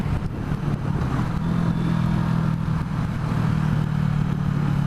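A CFMOTO 650NK motorcycle rolls along under engine braking, its steady low engine drone and faint rumbling clatter holding constant and close throughout, with no talking.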